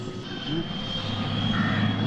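A steady, loud helicopter engine drone with a whirring rotor hum from a 1985 film, held throughout the short stretch with no speech.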